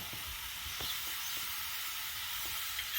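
Green chillies sizzle and fry in a pan for a village-style spicy dal, a steady broadband hiss with faint stirring clicks throughout, close and continuous with no voices.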